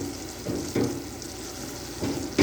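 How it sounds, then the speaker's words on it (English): Peanut butter no-bake cookie mixture with oatmeal and pecans bubbles in a pot on the stove while a spoon scrapes and stirs it, soft sizzling boil under a few louder stirring strokes. "if you'll see here, it's starting to boil. So we're just going to kind of keep a steady stir"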